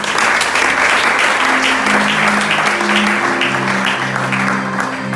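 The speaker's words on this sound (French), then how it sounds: "Est-ce que nous pouvons acclamer pour Dieu?" A church congregation claps and cheers in praise of God, loud, dense applause that carries steadily throughout, with a few sustained shouts and tones rising above it.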